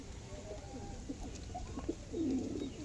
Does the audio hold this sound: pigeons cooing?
yes